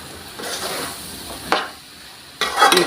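Ridge gourd stir fry being stirred in a pan: a few distinct scraping strokes of a spatula over a soft sizzle, the last one louder and busier, with no talking.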